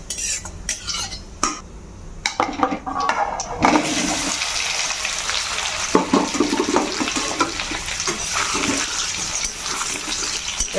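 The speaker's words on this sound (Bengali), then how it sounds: "ফোড়ন হয়ে গেছে, এর মধ্যে এবারে আলুগুলো দিয়ে দেবো।" Potatoes go into hot oil already spiced with two cardamom pods, a dry red chilli and whole cumin. After a few early clinks, a loud, steady frying sizzle takes over and continues without talk.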